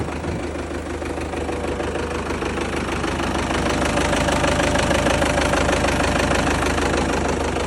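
An MTZ tractor diesel engine idles steadily and loudly nearby, a dense rough knocking rumble that holds constant the whole time.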